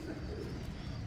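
Domestic pigeon, a show or fancy breed, cooing in soft low murmurs that run continuously through the short stretch, close by and fairly quiet.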